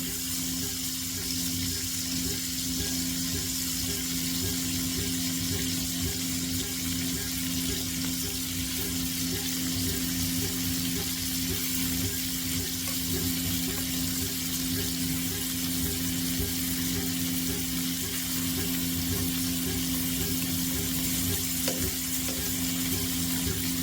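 Sausage frying in a pan, a steady, dense sizzle that holds at an even level throughout, close and continuous with no talking.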